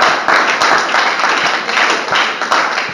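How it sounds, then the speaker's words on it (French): A church congregation breaks into steady, bright applause, dense overlapping claps sustained without pause at close range. "Est-ce que quelqu'un peut acclamer pour la parole de Dieu?"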